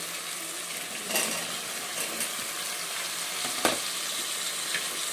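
Bottle gourd and softened tomato pieces cook in a hot pan with a steady, close hiss of frying and sizzling, with a few faint clinks and stirring taps over the continuous sizzle.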